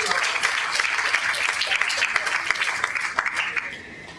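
An audience at a school reading fair gives a student another round of applause, a steady burst of many hands clapping with some voices underneath, fading out near the end.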